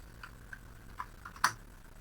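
Faint, scattered keystrokes on a computer keyboard: four or five light clicks, spaced out, with the last one a little louder, in a quiet room.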